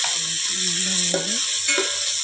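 Green chillies and salt are stirred in a biryani pan, a close continuous sizzle with scraping spoon strokes and a squeaky rubbing sound.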